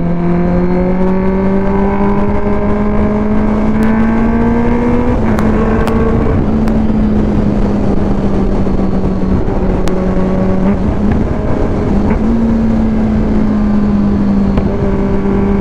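A Kawasaki ZX-10R motorcycle roars loudly on a night ride, its engine drone rising and falling in pitch through gear changes under constant heavy wind rush.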